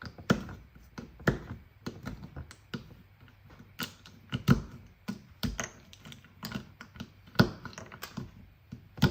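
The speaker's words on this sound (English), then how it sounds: "cutting chocolate can be quite satisfying" Knife chopping a bar of chocolate on a board for Brazilian hot chocolate, an uneven series of crisp close taps and cracks, quiet between strikes.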